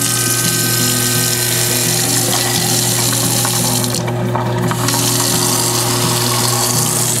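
An InSinkErator Evolution garbage disposal whirring steadily with a constant motor hum and gritty, watery grinding, loud and close, unbroken throughout.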